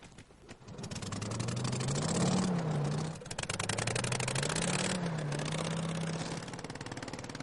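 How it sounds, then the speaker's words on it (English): Junkyard-built hovercraft engines at a race start line, a sustained mid-pitched engine drone that rises in two revving swells and then settles to a steady run, fairly close and without talk. "Gentlemen, start your engines!"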